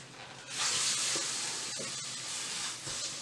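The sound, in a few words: oil sizzling while frying vegetable lumpia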